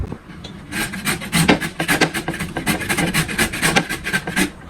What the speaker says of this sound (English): So you see the size of the grater we are using the side.